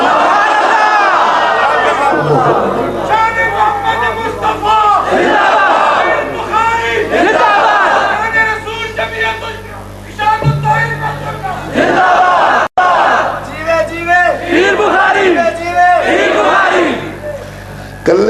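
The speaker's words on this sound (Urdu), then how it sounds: "کلے شکیل نے نعرے بہتا زور لایا، تسی سارے نہ زور نہیں لایا" Large crowd at a religious gathering chanting slogans in loud, rhythmic collective shouts, repeated in waves and overlapping with an amplified voice calling out between chants.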